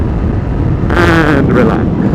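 Honda CG125 motorcycle engine droning steadily at about 60 mph, close and loud with wind rush, a brief tonal whine rising midway over the constant hum.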